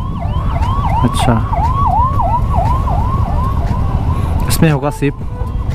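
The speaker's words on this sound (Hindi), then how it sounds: "एक एम्बुलेंस आ रहा है भाई।" An ambulance siren wails over and over on a road near Shillong, loud and close as it passes, breaking into quick yelping bursts near the end over steady traffic rumble while people talk.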